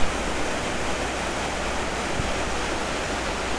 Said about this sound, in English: the water runs all the way across from one side to another